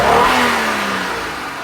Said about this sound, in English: Now I'm gonna snap the throttle.